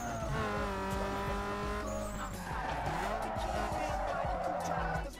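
Car racing at about 150 km/h through narrow alleys in Need for Speed Underground 2, a continuous loud engine roar with tire squeal and skidding, steady throughout under game music, with some speech mixed in.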